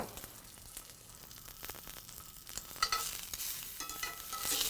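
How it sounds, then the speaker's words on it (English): Food sears in a hot pan in a farm-to-table kitchen, a steady close sizzle with scattered crackles and pops that grows louder and busier toward the end, with no talking. "So while we're letting this sear"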